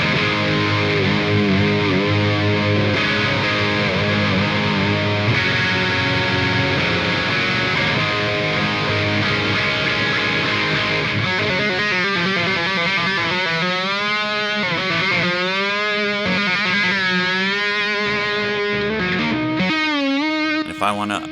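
Electric guitar, an S-style model, through a ToneX amp modeler preset: sustained distorted chords ring out loudly, turning wobbly and modulated toward the end.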